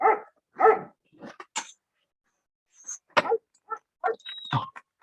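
A dog barking as a radio station sound effect, a few sharp separate barks and short yips spaced apart over silence, close and clear.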